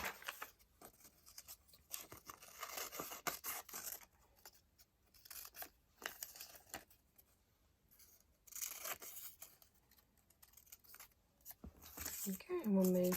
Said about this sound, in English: I'm going to cut it out like this so that it's easier for me to cut.